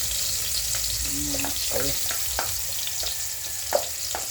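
Garlic sautés in a pan with a steady, moderate sizzle as a utensil stirs it now and then. A single brief word is spoken.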